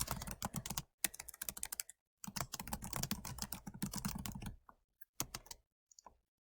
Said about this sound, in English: I'm going to type that out.